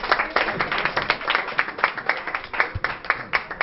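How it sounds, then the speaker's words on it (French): An audience at an anniversary event claps together, individual hand claps audible in a fairly rhythmic, close pattern that keeps a steady pulse for a few seconds. "Je vous demande de l'applaudir bien fort."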